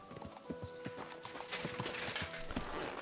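Horse hooves clip-clop in a steady walking rhythm in Kingdom Come Deliverance II, close and fairly loud, with faint tonal background sound beneath.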